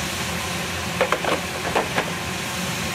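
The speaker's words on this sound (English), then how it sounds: "I think it's a good time to put onion down. I have to stir fry for a long time." Onions stir-frying in a pan for curry, a steady close sizzle with a few scraping stirs of the spatula against the pan and no talking.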